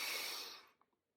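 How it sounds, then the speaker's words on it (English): A slow, steady inhale during box breathing, drawn in for a count of four, soft and close, fading out near the end with a couple of tiny faint sounds after. "You're going to breathe in with a 4."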